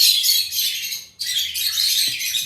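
A pair of high-mutation lovebirds, a green opaline male and a violet female, chirp and tweet in a dense, bright, continuous stream. The calls are close and loud, with a brief lull near the middle.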